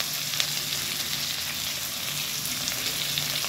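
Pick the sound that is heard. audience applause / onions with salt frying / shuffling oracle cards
onions with salt frying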